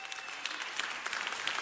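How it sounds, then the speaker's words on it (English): Applause from an audience at a women's awards ceremony, a steady, dense patter of clapping that holds throughout without any talk. "let's give Nuri another round of applause."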